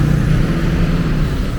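A bus idles and rumbles at Terminal Poris as it pulls in to park, a steady low engine drone heard close with no talking.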